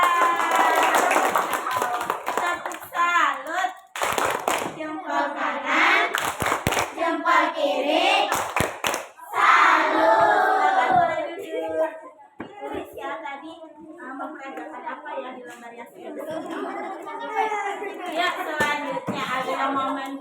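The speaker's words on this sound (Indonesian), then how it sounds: "Tepuk tangan buat mereka" Children in a classroom clapping together after a group's performance, bursts of claps and tapping mixed with a lot of chatter and an adult's voice between and over them.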